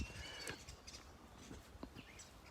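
Scattered chirps and calls of birds, including starlings, sound faintly outdoors in a foggy lowland, short and irregular against a soft wash of ambient noise.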